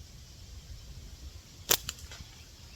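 A pickle fork slingshot fires once: a single sharp snap of the band release, followed by a couple of faint clicks, close and alone over a low background rumble.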